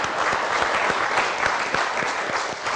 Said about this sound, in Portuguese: Recebemos aplausos.